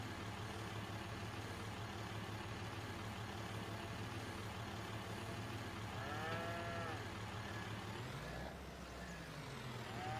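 Angus cattle on an Iowa farm, a faint distant moo rising and falling mid-clip over a low steady mechanical rumble, followed by a brief hiss like an air brake.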